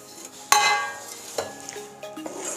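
Sesame seeds stirred into cooked jaggery syrup off the heat, heard as close scraping and clinking of a spoon against the pan, with one sharp knock followed by softer intermittent scrapes.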